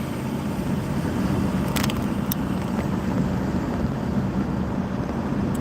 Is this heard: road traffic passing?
yes